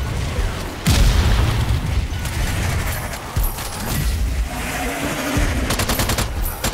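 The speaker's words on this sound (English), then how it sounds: "Uh, crap! Grenade! Grenade!" In the Strange Brigade video game, during horde mode, a grenade explodes amid rapid gunfire, with a heavy boom near the start, a second thump midway, and bursts of shots around it.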